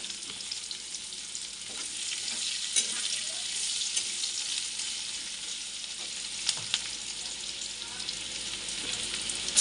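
Onion fries in a pan for a shrimp and red lentil dish, a steady soft sizzle of oil hissing throughout with faint occasional stirring clicks, heard alone and fairly quiet.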